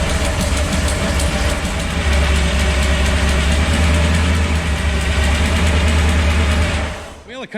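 Twin-supercharged Sunbird engine idling, a loud steady low rumble with a deep droning hum that holds evenly before cutting off near the end, with someone talking over it.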